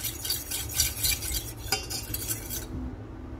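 A spoon stirs spices and seasoning around a metal cooking pot for nasi uduk, scraping and clinking against the pot in a steady rhythm under a soft sizzle, close up, stopping near the end.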